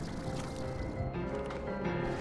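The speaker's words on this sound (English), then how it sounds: "that's the sound of another tar outbreak." A tar outbreak in the video game Slime Rancher 2 gives a continuous wet, squishing, gurgling rumble that stays steady and fairly loud throughout, with no talking over it.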